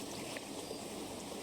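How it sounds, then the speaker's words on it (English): Rough river water bubbles and rushes steadily around feet while wading across a river, a dense, continuous close wash with no voices. "she walked through the water to get to the other side of the river, and could feel that rough water rising up above her ankles"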